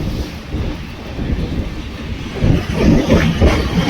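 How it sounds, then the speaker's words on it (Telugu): Heavy rain falls hard in a loud, rumbling wash that swells stronger in the second half, with no speech over it. "వర్షం చాలా గట్టిగా పడుతుంది"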